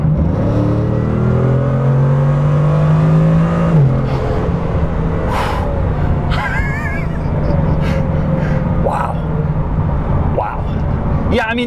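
A Bugatti Chiron accelerates at full throttle in a brief burst, its engine note climbing steadily in pitch for a few seconds before abruptly dropping back, with people talking loudly over and after it.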